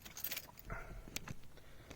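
Car keys jangle as they come out of a pocket, giving a few quiet, bright metallic clinks and rattles in short bursts with small handling noises between them.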